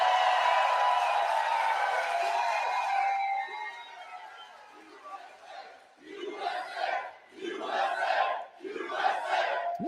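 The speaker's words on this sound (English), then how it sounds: "Ooh, a lively crowd tonight." A big crowd at a UAW union gathering in Detroit roars loudly and steadily, then breaks into rhythmic, chant-like bursts of cheering that rise and fall.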